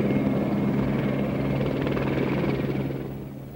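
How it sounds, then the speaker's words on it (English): Russian helicopter gunships on a mission over Nicaragua give a loud, steady rotor thrum and engine roar that fades slightly at the end. "The Russian helicopter gunships are out in force, 5 on this mission"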